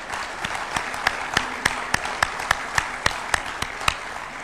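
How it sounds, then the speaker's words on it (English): An audience at a speech applauds the African Development Bank president, a dense wash of clapping with a steady rhythmic beat of unison claps cutting through about three times a second. "Let us clap for this man."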